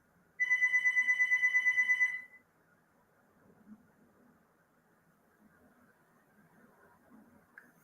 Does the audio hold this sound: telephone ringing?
yes